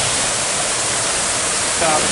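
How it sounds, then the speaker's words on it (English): Waterfalls at Efteling theme park, heard from a misty bridge with the falls behind the trees: a steady, loud broadband rush of falling water filling the whole moment without pause. "There are here behind the trees, it's the waterfalls."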